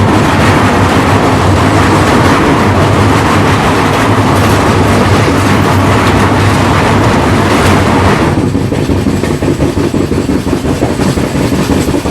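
Mumbai Central–Indore Duronto express train running on rails, a loud steady rumble with rhythmic wheel clatter heard close up from onboard, continuous throughout and easing slightly toward the end.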